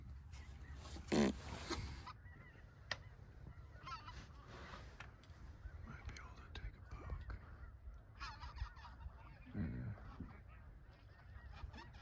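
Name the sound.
snow geese honking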